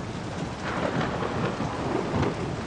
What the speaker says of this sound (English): It's been pouring for hours.